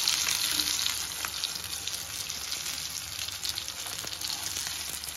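Vela meen fish frying in oil in a pan, a loud steady sizzle and crackle heard close up throughout, with no voices.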